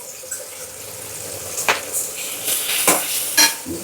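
Ginger and garlic frying in a pan for a country chicken curry, giving a low sizzle broken by several sharp scraping stirs near the end, with no talking.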